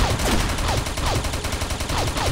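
Rapid automatic gunfire from an M4-style rifle in the online shooter Combat Arms, a fast regular string of sharp shots each trailed by a falling whine, close and loud without pause and with no talking.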